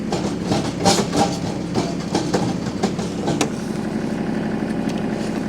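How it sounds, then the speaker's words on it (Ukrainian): A Kubota KL340 tractor with its rotary tiller running in first gear gives a steady mechanical churn and rumble, with irregular clanks and knocks from the tines up close. "Ще хочу показати вам, як власне працює сама ґрунтофреза. Включаємо першу швидкість."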